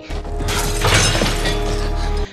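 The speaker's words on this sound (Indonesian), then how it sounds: "tiba-tiba terdengar suara pecahan kaca dari dalam kamar mandi" Glass shatters inside a bathroom in a film scene, a loud crash followed by a sustained spray of breaking shards over a low steady hum, with no speech.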